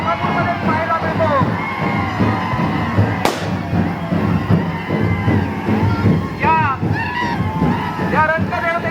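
Festival crowd cheering at a Shimga palanquin procession in Dhamapur, Konkan, with traditional dhol drumming and shehnai. A dense, loud, continuous roar of voices and activity fills the whole stretch, with people talking throughout.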